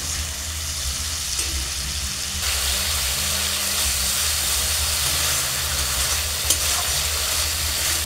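Pabda fish curry sizzling in a pan with ginger juice over medium heat, a loud continuous frying hiss with stirring scrapes throughout and no voices.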